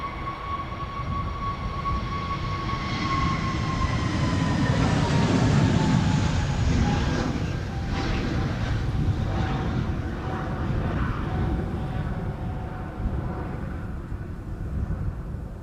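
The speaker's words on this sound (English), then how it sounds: "EasyJet A320 Neo to Stansted up next." An EasyJet Airbus A320neo jet departs Schiphol's Polderbaan runway in crosswinds, a steady, loud engine roar with a whining tone that slowly drops in pitch, rising and easing over about fifteen seconds without talk.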